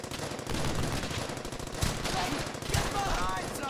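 Machine gun suppressing fire in the World War II shooter Brothers in Arms: Hell's Highway, a dense, continuous rattle of automatic bursts with a few sharper gunshot cracks standing out, loud and close throughout.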